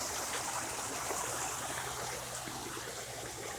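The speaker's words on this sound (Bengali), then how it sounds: "ঝর্ণার সাউন্ডটা কিন্তু অসাধারণ লাগে" Artificial fountain water flows steadily in a butterfly garden, a continuous close splashing rush with no voices over it.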